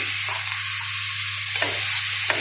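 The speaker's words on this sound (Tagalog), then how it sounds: "Ako ginigisa ko muna yan sa oil. Una ko yung onion." Chopped onion sautéing in hot oil in a pan, a steady close sizzle with brief stirring scrapes at intervals, no talking.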